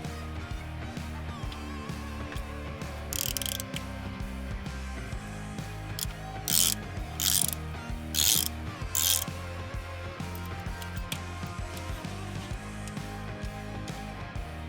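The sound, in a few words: tightening a bolt on Ford Focus ST engine oil feed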